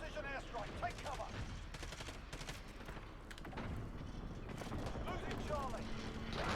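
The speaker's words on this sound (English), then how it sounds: "Enemy precision airstrike." Gunfire and explosions from a precision airstrike in Modern Warfare, a rapid, dense clatter of shots and booms running continuously, with voices heard under the din.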